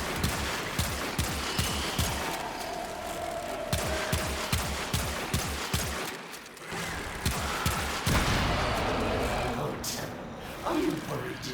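Rapid bursts of automatic gunfire in the video game Warframe, a steady rattling stream of close, loud shots that pauses briefly midway, then resumes with mechanical clicks.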